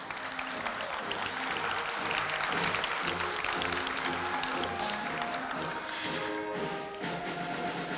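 A large audience at Korea University's 113th anniversary ceremony applauds an award recipient. The sustained, even clapping sounds moderately distant, with a faint tonal hum running underneath.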